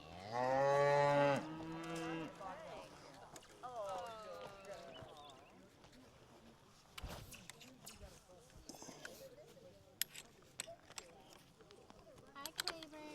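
Cattle on a farm let out one loud, drawn-out moo close by, followed by fainter lowing, hoof clops and rustling movement.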